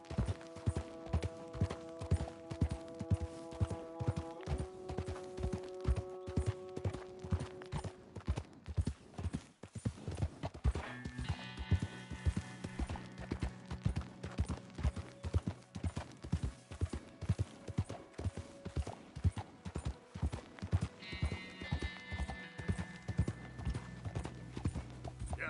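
Horse hooves clip-clop steadily and rhythmically throughout a long stretch of Red Dead gameplay, close and clear, layered over game music with sustained tones.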